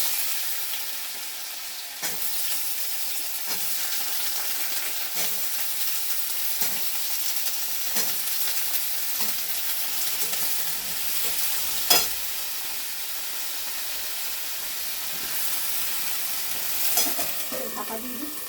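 Vegetables and fried bori stir-fried in a hot pan with green chilies, a continuous close sizzle broken by repeated scraping stirs of the spatula, no voices.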